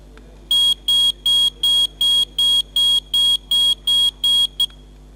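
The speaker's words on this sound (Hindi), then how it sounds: "हमने डिवाइस के अंदर इनबिल्ट सायरन दिया हुआ है" Built-in siren of a gas leakage alarm device sounding a loud, steady series of about twelve identical sharp electronic beeps in an even rhythm, close and alone.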